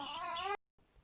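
A house cat gives one clear, drawn-out meow at close range, followed by silence and then faint room noise.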